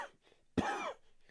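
One harsh, close cough breaks a near-silent stretch, lasting about a third of a second before fading to quiet.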